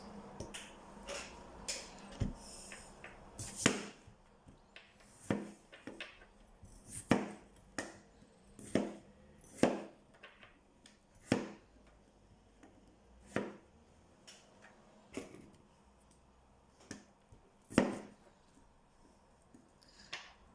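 A knife chops onion into bite-sized pieces, giving sharp, isolated knocks roughly a second apart over about twenty seconds, close and fairly quiet with no talking.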